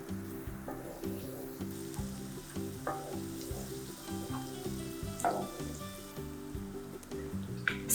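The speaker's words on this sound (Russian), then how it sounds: "И буквально минутку обжариваю его на жире от бекона." Chopped onion frying in bacon fat in a hot pan, with a close, continuous sizzle and crackle and a few soft stirring scrapes, no voices.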